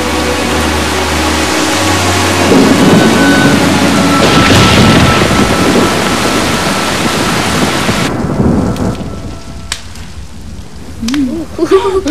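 A thunderstorm with heavy rain and wind roars loudly and continuously, with a rumbling low end that swells midway before easing into a lighter patter and scattered sharp sounds.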